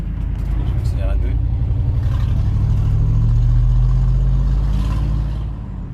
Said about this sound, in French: Je vais accélérer un peu.